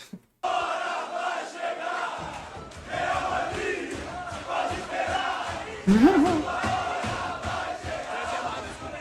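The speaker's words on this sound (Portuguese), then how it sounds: "esse cântico surgiu com a torcida do Vasco no pré-mundial de 1998" A Vasco football crowd sings a loud, sustained chant in a stadium, the massed voices swelling and surging together throughout, with the roar rising sharply near the end.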